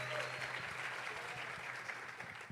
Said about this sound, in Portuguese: Palmas para o Hot.